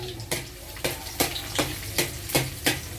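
Garlic sautéing in a pan for bihon noodles, a steady sizzle broken by regular stirring scrapes about every third of a second, close and fairly loud, with no talking.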